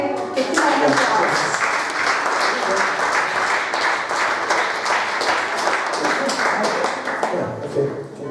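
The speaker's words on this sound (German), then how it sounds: "Let's give him a hand clap." An audience at a Christian conference in Vienna applauds steadily, a dense wash of clapping hands that holds for several seconds before tapering off.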